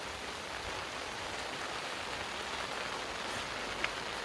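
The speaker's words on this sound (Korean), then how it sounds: "비가 제법 오는데" Steady rain falls on a vegetable garden in Jeongseon, Gangwon Province, a dense, even hiss of drops close by with no voices.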